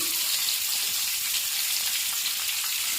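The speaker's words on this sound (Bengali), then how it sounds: "ডিমগুলোকে ভেজে নিচ্ছি" Eggs frying in a pan for a non-veg thali, giving a continuous dense bright sizzle and crackle that stays even and close throughout with no voices.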